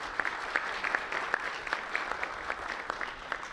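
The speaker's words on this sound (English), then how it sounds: "Give us yourself a round of applause," Steady applause from a community meeting audience, even clapping with scattered sharper claps sustained throughout at moderate distance, no voices over it.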